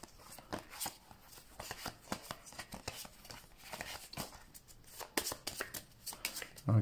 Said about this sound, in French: on va mélanger les cartes du futur